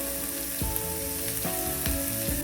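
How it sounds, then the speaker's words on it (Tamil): Onions and green chilies sautéing in a pan, giving a continuous close sizzle with a few clinking spatula strokes spaced through it. "வெங்காயத்தை வதக்கிக்கணும்"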